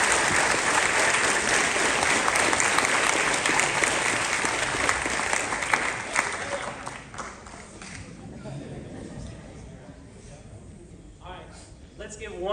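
Sustained applause from an audience at a junior high school spring band concert, a dense roar of clapping that holds loud for several seconds, then thins and fades as scattered voices come through.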